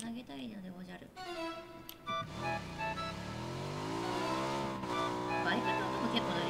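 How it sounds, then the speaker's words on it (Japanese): A motorbike engine in the battle royale game PUBG whines and climbs in pitch as the bike accelerates, a steady rising drone beneath a player talking over it. "バイクの音も結構鳴るよね。"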